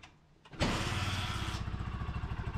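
A Honda Supremo motorcycle kicks over and catches on the first try, a sharp burst followed by a close, loud, rhythmic idle with steady rapid pulses.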